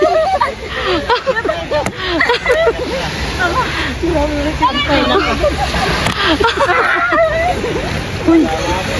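Water splashing and sloshing continuously alongside lively family voices shouting and chattering, with irregular bursts of splatter throughout.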